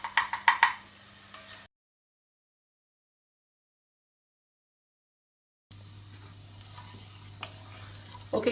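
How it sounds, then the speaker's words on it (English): Onions and carrots simmer in oil in a pan while being stirred, giving a quiet sizzle with a few scraping stirs at the start, then a silent gap before the soft frying hiss returns. "keep giving them a little bit of a stir, and just let them simmer away."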